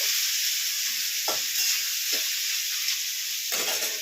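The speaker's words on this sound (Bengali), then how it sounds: "তারপরে একটু নাড়াচাড়া করে" Sliced ridge gourd stirred in hot oil in a pan, giving a constant bright sizzle with a few soft scrapes and spatula knocks, the last one near the end, heard close with no talking.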